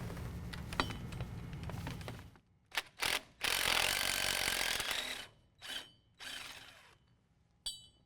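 A hand ratchet works loose 10mm drive shaft bolts under a 2015-17 Ford F-150 4WD, first as a dense rapid clicking, then as short separate bursts of ratcheting and rubbing with gaps between, close and fairly quiet, no talking.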